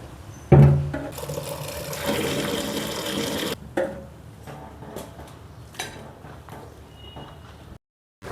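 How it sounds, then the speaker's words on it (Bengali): Cut taro stolons being rinsed in water, with a broad splashing and pouring wash at the start that later breaks into a few separate sloshes and drips, close by and fairly loud. "লতি কাটা হয়ে গেছে, এবার এগুলোকে ধুয়ে নেব।"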